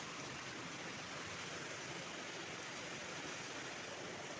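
Heavy rain pours steadily onto a house during a storm, a dense, continuous, even hiss with no breaks and nobody speaking.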